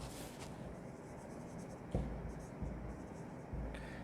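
A pen scratches an account entry onto paper at a desk, with faint strokes and a few firmer taps heard close by under light room noise.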